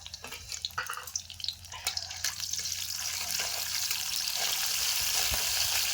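Garlic hits hot oil in a pan on the stove, starting with scattered crackles and pops, then building into a steady, dense sizzle that holds evenly to the end, close by with no talking.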